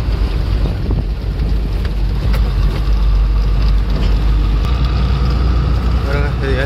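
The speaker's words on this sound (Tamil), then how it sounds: "காற்று செம்மையாடிக்குது ஜில்லுன்னு." Strong wind buffeting the microphone on a single road while driving past water, a steady loud roaring rumble that never lets up, with a low engine drone underneath and faint voices in the background.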